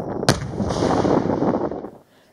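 Explosive ordnance demolition training producing a sharp distant blast followed by a long rolling, rumbling boom that fades out after about two seconds.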